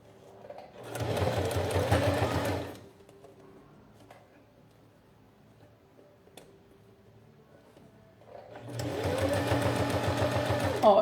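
A sewing machine stitches a seam in clear plastic for a small pouch, two close bursts of rapid whirring several seconds apart with near silence between them.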